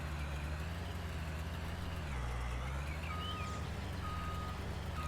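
Reversing beeps ring out in Farming Simulator 19 as a farm vehicle backs over corn during a wheat harvest, a few short evenly spaced electronic tones sitting over a constant, loud low engine drone.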